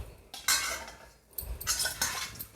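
Crisp roasted poha chivda with dried onion rattling and clinking against a metal pan or bowl as it is scooped, in a few close bursts of dry crunchy clatter.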